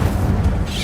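A fire charm spell is cast in a video game, a short, dense burst with a low, booming body that stays loud for under a second.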